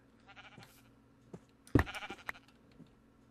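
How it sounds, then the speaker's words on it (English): Sheep bleat in a Minecraft-style video game, a few short quiet bleats spread across a few seconds, with one louder, sharper cry in the middle and no talking. "I don't want to blow up a sheep because I need sheep."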